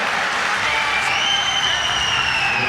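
Crowd at a European weightlifting championship snatch session in Turkey, a dense sustained roar of applause and cheering with a whistle rising above it, loud and continuous.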